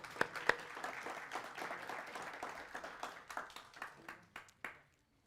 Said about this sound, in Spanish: ¿Podemos dar un fuerte aplauso a los que nos visitan?